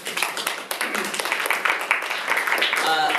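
A university debate audience gives a round of applause, dense steady clapping from many hands filling the room, loud and close, with a few voices mixed in.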